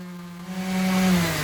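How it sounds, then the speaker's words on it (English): A steady power tool whirs and grinds while sanding walnut wood, its droning tone rising slightly as it works, close by with no talking. "Now I'll get on with sanding."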